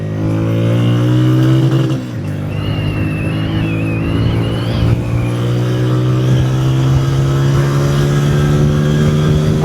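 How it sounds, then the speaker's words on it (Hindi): Motorcycle engine revving hard, its rising harmonic whine climbing steadily with a brief dip near two seconds, loud and close throughout with no talk. "थोड़ा सा खींचते हैं बाइक को, ज़रा ट्राई मारते हैं।"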